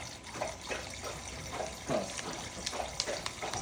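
A dog named Buster splashes in water in a kitchen sink during dishwashing, with irregular close sloshes and slaps over a faint running-tap hiss.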